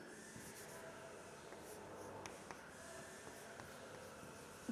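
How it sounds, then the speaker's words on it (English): Pen scratching out notes on a breathing-mechanism lesson, faint and close, with soft intermittent strokes over a quiet background hiss. "let me write down here"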